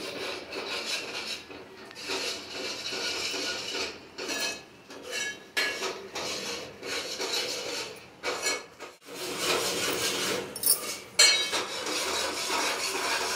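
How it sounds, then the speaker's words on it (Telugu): A spoon scrapes and rubs steadily around a pan of egg curry to keep it from burning, the repeated close strokes grating against the metal with brief pauses between. "మాడకుండా కదా, మాడకుండా ఇలా కలుపుకోవాలన్నమాట"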